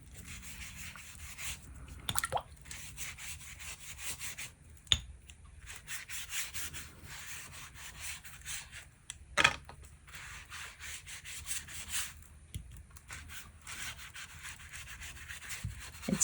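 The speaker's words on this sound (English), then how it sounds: "I'm going to take this very, very thirsty brush here, this squirrel quill brush, and wet the back and the front of this" A squirrel quill brush wets both sides of watercolor paper, producing soft, repeated brushing and rubbing strokes close up, with an occasional faint tap.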